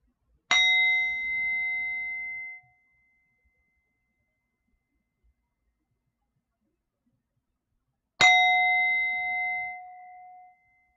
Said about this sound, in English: Let us take a quiet moment with the ringing of the singing bowl